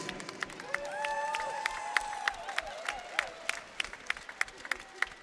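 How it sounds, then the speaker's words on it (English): A boxing crowd applauds both fighters after the final round, steady clapping and some cheers swelling then thinning into scattered sharp claps, while an announcer's voice carries over the top. "let's have a nice round of applause for both fighters"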